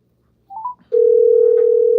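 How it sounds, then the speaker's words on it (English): A steady, loud telephone dial tone holds alone after a short burst of brief dialing or connection beeps, sounding on a phone line as a call is being placed. "Let me see if I can get Shatnet on the phone."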